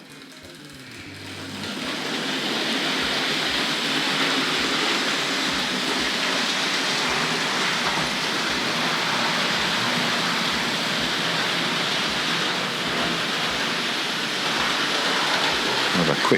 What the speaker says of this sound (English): So locomotive number 4, enter. Let's get her rolling around.